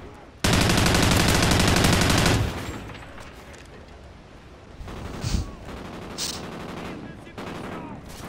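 A long, loud burst of automatic fire in Call of Duty Ghosts, followed by quieter scattered game sounds and a few distant shots.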